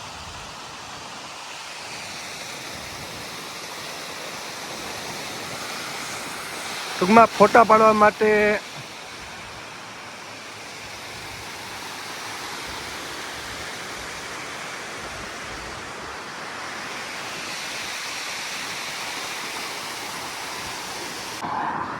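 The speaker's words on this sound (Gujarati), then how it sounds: "ફુવારા પાણીના પડતા હોય." Water falling from a city fountain in Tel Aviv makes a steady, even rush heard throughout, with a brief burst of nearby talk partway through.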